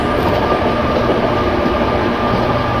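A WAG 7 locomotive in a train simulator game hauls an ICF passenger train uphill, giving a steady, loud rumble of rolling stock with faint rhythmic clatter from the wheels throughout, and no talk.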